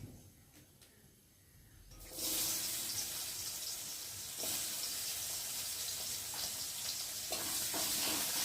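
Sliced onions drop into hot oil with black cumin seeds. A quiet stretch gives way to a loud, steady sizzle that continues throughout, with occasional stirring scrapes and no talking.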